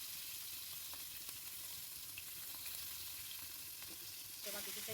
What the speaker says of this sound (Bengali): কাটা শিমলা মির্চগুলো আমরা এই তেলেই ভেজে নেব